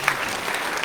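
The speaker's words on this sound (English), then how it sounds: "Can we give them another round of applause?" An outdoor crowd at a genocide remembrance ceremony on Shark Island, Luderitz, applauds in a brief, steady wash of many hands clapping at once.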